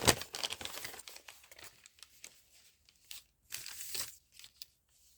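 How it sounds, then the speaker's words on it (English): Packing paper being handled: sharp crinkling and tearing bursts, loud at the start and again near the end, with quieter rustles between and no talk. "Have I got a piece big enough of this lovely packing paper?"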